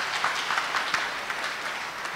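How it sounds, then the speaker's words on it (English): A congregation claps steadily for a children's Sunday school class, a dense continuous applause of many hands heard up close, with no voices standing out. "Let's clap them for them again."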